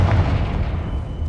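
A Confringo blast spell in Hogwarts Legacy sets off one deep booming burst, a loud low rumble that fades slowly across the moment, with no talking over it.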